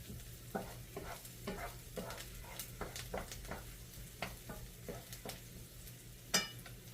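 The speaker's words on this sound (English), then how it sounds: "Give this a nice little stir here" Sausage, mushroom, chestnut and pecan stuffing with browned butter and herbs is stirred in a pan, a faint close run of repeated spoon scrapes and soft clinks over a quiet sizzle, with no talking.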